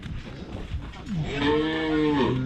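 Cattle moo close by, a long, loud low call rising and bending in pitch over about a second and a half, following a stretch of murmuring voices and barn noise.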